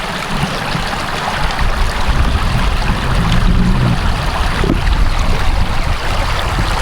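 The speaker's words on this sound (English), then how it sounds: "Can you hear the water?" Water in an outdoor stream rushes and gurgles continuously, loud and close, forming a dense, unbroken wash of sound with no talking.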